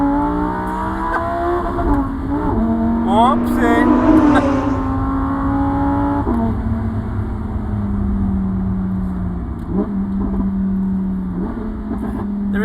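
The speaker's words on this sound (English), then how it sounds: "There is no other supercar today that has this spectacular sound." A Lamborghini Huracan STO with its naturally aspirated 5.2-liter engine, the same unit as in the racing car, roars loud and close through rising and falling revs and gear changes, with a brief exclamation from the driver.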